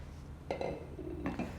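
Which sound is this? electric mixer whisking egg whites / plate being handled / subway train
plate being handled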